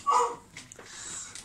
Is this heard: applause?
no